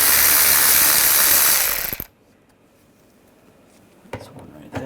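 An 8mm socket on a ratchet works bolts loose on a 2009-2010 BMW 535i xDrive, a dense rapid clicking of the pawl that stops abruptly, followed by quiet and a few light knocks.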